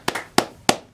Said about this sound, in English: Big round of applause, everybody, for Rebecca Ganley